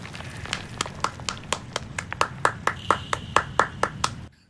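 A single pair of hands claps in a steady, even rhythm, about fifteen sharp, close claps that pick up slightly in pace before stopping abruptly, heard alone as an audiobook sound effect.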